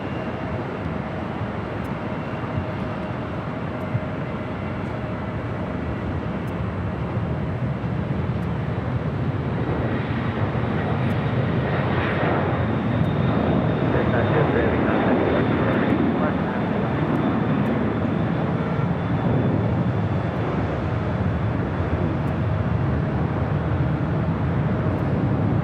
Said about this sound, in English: UPS flight 903 heading back to Louisville, 767-300ER, rolling down to 25 left there on the south side.